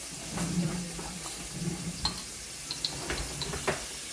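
Chopped onions sizzle in a hot pan for Spanish rice, a steady frying hiss broken by a few sharp scraping clicks of stirring, close and moderately quiet.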